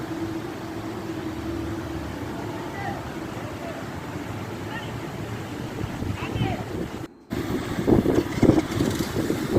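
A small seasonal forest stream flows along a channel with a steady, rushing wash of water. The sound cuts out briefly, then returns louder and rougher with faint voices nearby.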